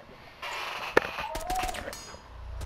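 Rainbow Six Siege gunfire: a single sharp, loud shot cracks out, followed by a quick spray of fainter rapid reports, while players talk over the action.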